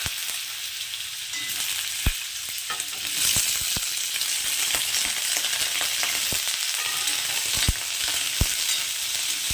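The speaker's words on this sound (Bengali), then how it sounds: "এবার এই তেলের মধ্যে আমি আলুগুলোকে একটু ভেজে নেবো" Potatoes fry in hot oil with a dense, continuous sizzle heard up close, punctuated by sharp spatula scrapes and clicks against the pan at irregular intervals, with no talking.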